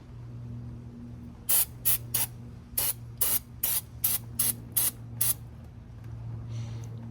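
Short, sharp bursts of aerosol brake cleaner spray hiss out in quick succession, about ten in a row, over a low background hum, while cleaning Ford F-150 front brake parts.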